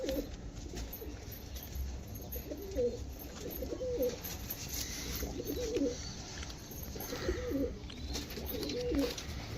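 Pigeons at a sale in Dankuni coo in repeated soft, rolling phrases, several birds close by, over a low background hum with no talk.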